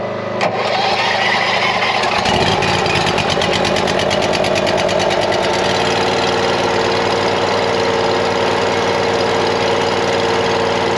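Small electric-start engine on firewood equipment cranks and catches, then runs loud and close with a steady, slightly rattling idle that continues to the end.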